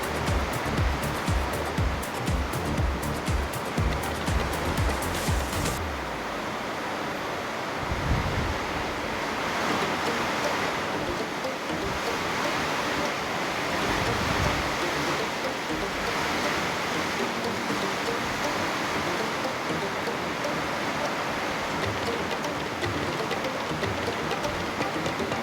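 A heavy rain storm pours down steadily, a dense hissing wash with gusty wind roar that stays loud and constant throughout, somewhat rougher and louder in the first few seconds.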